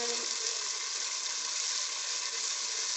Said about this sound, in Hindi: इसको 1-2 मिनट भूनेंगे। ये इसमें टमाटर डालते हैं।